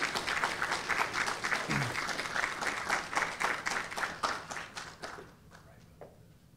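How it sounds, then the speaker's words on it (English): Audience applause welcoming a city council member at an MLK celebration awards event, brisk and fairly close, with a quick rhythmic pulse that thins out and fades to scattered claps at the end. "Let's receive him with a round of applause."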